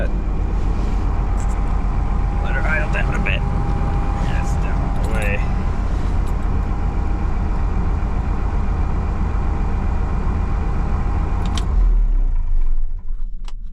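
A truck engine idles with a deep, steady rumble and a constant hum, briefly overlaid by a few voices and clinks, before dropping off as it shuts down near the end.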